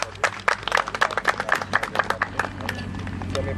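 Applause from a crowd at a Macedonian shepherd dog (Karaman) national show, a dense run of sharp claps that thins and fades toward the end.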